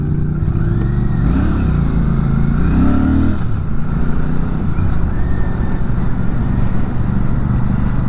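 A Royal Enfield Classic 650 parallel twin rumbles close by, its engine rising in a brief rev around the third second before settling into a steady, deep running drone.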